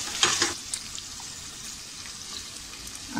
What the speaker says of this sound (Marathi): टोमॅटो आपला छान याच्यामध्ये परतून घेऊया।